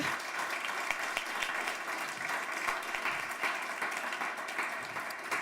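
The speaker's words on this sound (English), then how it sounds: "So first of all, we give you an applause." Audience applause for presenters at an innovation demo day, a steady, dense clapping that holds evenly for several seconds with no talk over it.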